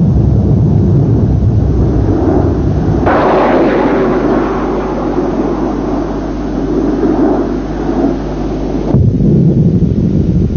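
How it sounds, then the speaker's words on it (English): A Panavia Tornado military jet, the NATO aircraft built in Europe, roars loudly in a sustained pass that swells abruptly and holds steady for several seconds before cutting off, with a deep rumbling drone beneath the noise. "This, then, is Tornado, the aircraft conceived and built in Europe for NATO."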